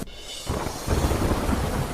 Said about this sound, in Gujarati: દ્વારકા જિલ્લામાં મુશળધાર વરસાદ